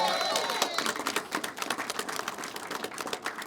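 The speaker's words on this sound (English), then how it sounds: "Could we give him an extraordinary round of applause" Audience at a county Democratic party endorsement event applauds the party chairman, crisp individual claps sounding fairly close, thinning into a sparse, uneven patter after a brief mingled voice at the start.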